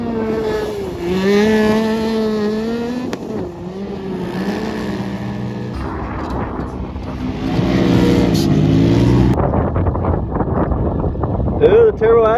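UTV race machines, including a Turbo S, roar and slide across sand dunes at Little Sahara, Utah during the Red Bull Sand Scramble, engines revving and fading past with wind buffeting and excited voices.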